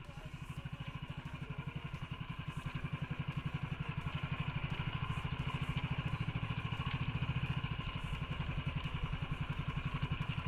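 Engine of a small motorboat on a sea crossing to an island, a steady rhythmic chugging drone that stays even throughout, fairly close and moderately loud.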